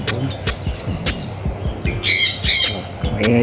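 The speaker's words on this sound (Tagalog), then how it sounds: "Maingay yung ibon" Harsh, noisy bird squawks ring out repeatedly, louder in the second half, over a background of clicks and low rumble.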